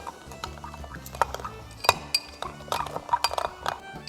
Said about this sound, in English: Give it a little stir, just to make sure the sugar dissolves.